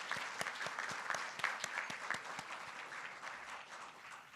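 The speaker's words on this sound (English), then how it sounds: "let's give them a round of applause for all their support" Audience applause at an awards dinner, a steady mass of clapping with sharp individual claps standing out, sustained at moderate level throughout with no voices.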